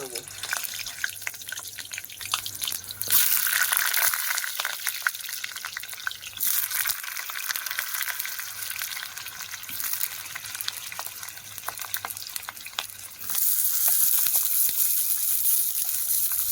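Cut potatoes dropped into hot oil spiced with Kashmiri chilli powder for stuffed aloo dum, with a loud surge of frying sizzle that eases, then swells again near the end, over a faint steady hum.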